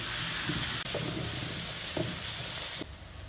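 Onions and pandan leaves sizzle and fry in a pan with a continuous hiss, broken by a few soft stirring scrapes and clinks, with no talking.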